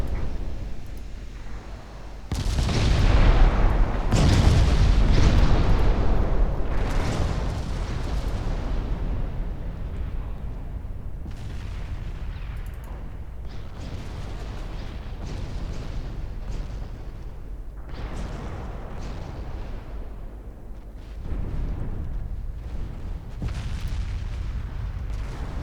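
Warship main guns and secondary batteries firing in the naval game Ultimate Admiral: Dreadnoughts, 1947 Norwegian campaign: heavy booming salvos and explosions, loudest early, then continuing rumbling shots and blasts throughout.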